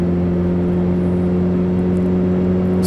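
Volkswagen Passat B5 diesel engine in the City Car Driving game, holding a steady, loud droning note with strong even tones and no audible pitch climb.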